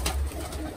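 A pigeon coos softly from a loft where a breeding pair has just raised chicks, a low throaty burble over faint background hiss.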